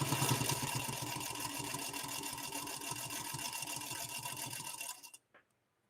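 A sewing machine fitted with a Schmetz 9014 needle and dual-duty XP thread stitches in a steady, fast mechanical whir with rapid ticking. It runs close and continuous for about five seconds, then stops, and one small click follows.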